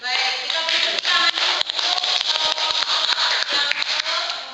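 Steady applause from a classroom group, dense rapid clapping throughout, fairly loud and close.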